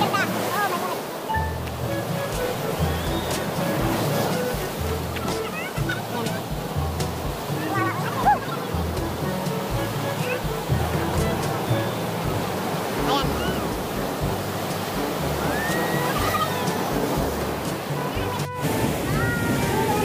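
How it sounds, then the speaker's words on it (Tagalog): Waves wash and splash continuously at the seaside resort of Isla Jardin Del Mar in Glan, Sarangani, a broad rushing surf close by with wind, and people talking over it. "Giniago ba? Talsik ng tubig."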